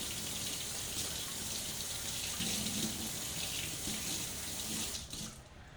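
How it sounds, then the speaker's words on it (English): Running tap water splashing steadily into a sink as hands are washed mid-way through cooking egusi soup, continuous and close, cutting off just before the end. "Let me wash my hands."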